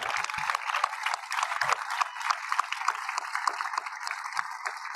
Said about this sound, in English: So round of applause for our panelists.